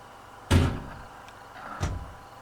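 Two heavy thuds of train cab doors in the Derail Valley video game on a CD Class 750 locomotive, one loud near clunk and a softer second one about a second later, with no talk.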